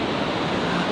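Ocean surf breaking on a long sandy beach, a dense, steady wash of water and wind noise, loud and close, heard only briefly.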